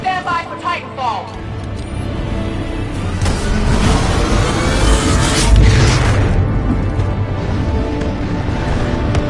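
A Titan drops from the sky in the video game Titanfall 2: a rushing roar swells over a few seconds and ends in a heavy, booming impact, after brief radio-style voice chatter at the start.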